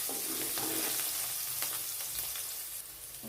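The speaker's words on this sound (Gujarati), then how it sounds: "થોડી વાર સકરાઈ દઈશું" Curry leaves and chillies sizzle and crackle steadily in hot oil, a continuous close frying hiss with small pops as they are stirred.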